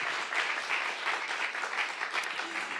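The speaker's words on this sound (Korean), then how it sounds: "박수하세요." A church congregation at a Saturday worship service applauds together in a steady, even wash of clapping heard from a moderate distance.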